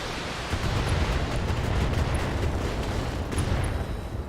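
Weapons fire and explosions in the BattleTech mech combat video game, a dense continuous rumbling barrage with heavy low booms and no talk, steady and loud throughout.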